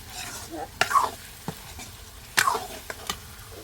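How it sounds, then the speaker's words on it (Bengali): Shrimp frying among taro leaves in a pan gives a soft sizzle broken by a few sharp stirring scrapes and clacks, with faint voices in the background. "চিংড়ি মাছ দিয়ে দিলাম কচু শাকের ভিতরে"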